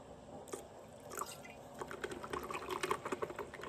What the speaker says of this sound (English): A little splash of rum.